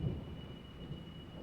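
Thunder rumbling during a heavy rainstorm in Quezon City, a faint low rolling rumble under steady rain noise, fairly distant and continuous, with no voices.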